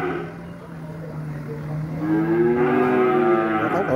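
Cattle moo repeatedly on a cattle farm, a low drawn-out call rising into a loud, harmonic bellow in the second half, close and clear with no talk over it.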